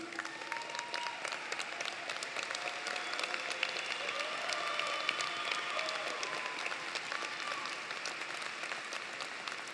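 Audience at a high school graduation applauds steadily, a dense even wash of clapping from a large crowd sustained throughout.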